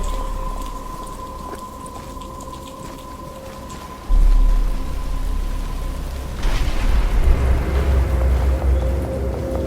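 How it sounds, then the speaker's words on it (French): Steady rain patters down in the video game Batman: Arkham Asylum while a low rumble swells partway through, with a faint tonal hum underneath; no voices. "Il commence à pleuvoir."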